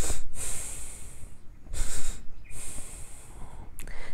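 A person doing a calming breathing exercise, with loud, close, airy breaths: a long drawn exhale, then another long breath and a shorter one, alone without talk.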